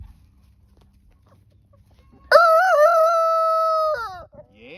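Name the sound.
rooster crowing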